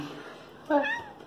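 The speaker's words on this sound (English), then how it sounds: "Here's a friendly cat character who decided that he could join the video." A friendly cat lets out a single short, close meow partway through an otherwise quiet moment.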